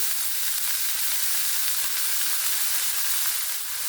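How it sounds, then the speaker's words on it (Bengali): Cabbage frying in an oiled pan while being stirred, a loud continuous bright sizzle holding steady at close range, no talking. "এই বাঁধাকপিগুলো এখানে দিয়ে দেবো হালকা একটু নেড়ে চেড়ে নেবেন"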